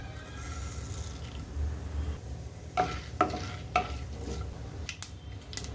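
Mustard seeds, chana dal and urad dal crackling in hot oil in a pan for aval tomato upma, a soft continuous sizzle broken by several sharp pops and stirring clinks, close and alone.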